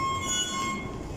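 An underground train rumbles along with a thin, high squeal from the wheels on the track, heard steadily over a short moment.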